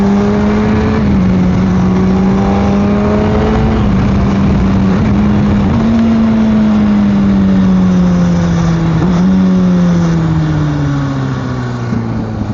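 A Honda CBR600RR superbike engine revs steadily and loud, close to the microphone, its pitch climbing and dropping through gear changes as the motorcycle rides along, with no talking.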